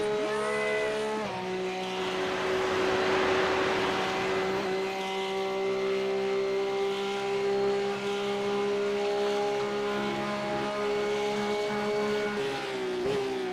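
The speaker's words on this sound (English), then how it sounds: "Listen to that car. Isn't it beautiful?" A Porsche Cup race car's flat-six engine screams past at full throttle, a loud, sustained high-pitched wail with a steady harmonic whine and a brief pitch shift at the start, dominating the scene with no talk.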